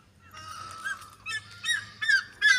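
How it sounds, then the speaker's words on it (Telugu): An Asian koel calls from a perch above a cotton field at Rajapalem, giving about three short rising notes that grow louder over a low steady rumble. "అక్కడైతే కోయిల కూర్చొని అరుస్తూ ఉంది కోయిల గొంతు చాలా బాగుంది కదా"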